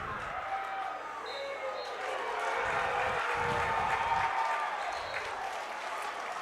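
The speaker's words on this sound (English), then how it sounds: "every once in a while you hear the crowd get into it" Spectators at a WIAA state high school wrestling semifinal applaud and cheer. The crowd noise builds to a broad swell in the middle and then settles back to a murmur.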